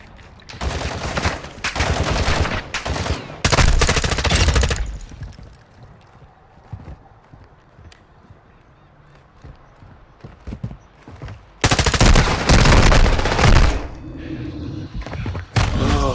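Gunfire in Call of Duty MW2 DMZ, with loud close bursts of rapid shots in two clusters separated by a quieter stretch of distant pops and faint game sounds.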